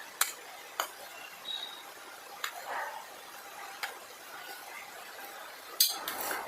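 A spoon clinks and taps against a bowl while mixing custard powder with milk, sharp scattered ticks at irregular intervals over a quiet background.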